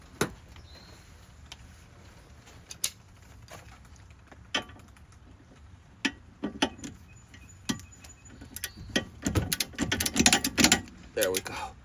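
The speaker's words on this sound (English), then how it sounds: "I'm gonna try with a torque wrench though" Torque wrench tightening a front upper control arm bolt on a 2006–2023 Dodge Charger: a few sharp metallic clicks spaced apart, then a quick burst of ratcheting near the end, with no voices.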